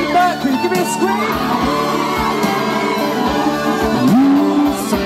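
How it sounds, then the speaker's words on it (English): At an outdoor Pride concert in Luton, a large crowd screams and whoops loudly together, a dense, sustained roar of many voices with shouts rising out of it. "Give me a scream."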